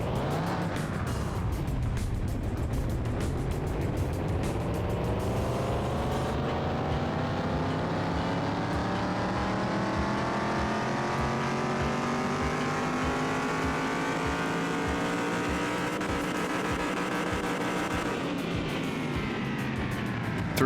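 A Ford Bronco engine in the Car Mechanic Simulator 2021 game revs up on a dyno, its pitch climbing steadily over many seconds in a loud, continuous synthetic drone before dropping back at the end.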